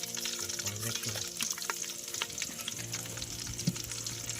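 Chopped green chilies frying in hot oil for a shak puri dish, a continuous close crackle and sizzle with occasional stirring clicks and a low hum underneath.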